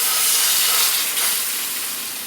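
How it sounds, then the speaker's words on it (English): Pork ribs dropped into a skillet with hot lard, a loud, close, broadband sizzle that hisses steadily and fades slightly toward the end. "time to get these ribs in the pan"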